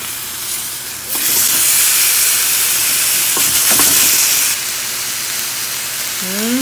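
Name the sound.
chicken searing in a grill pan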